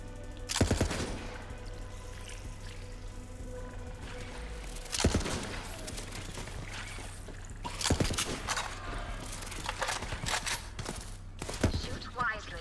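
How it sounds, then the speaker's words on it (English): Shots ring out in a video game as runes are fired through rings, sharp bursts of gunfire-like impacts recurring every few seconds over a steady game soundtrack and hum, with a voice talking at moments. "shoot the runes through the rings"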